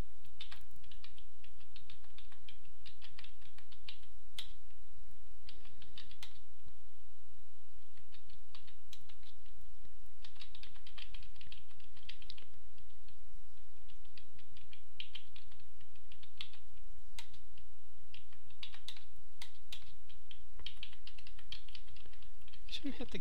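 Computer keyboard keys clatter in quick, irregular bursts with short pauses during play of the game Unreal World, close and fairly loud, while a voice speaks intermittently.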